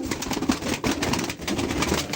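Pigeons coo in low, throaty repeated calls close by, layered over a busy background hiss and faint rustling, with no talk.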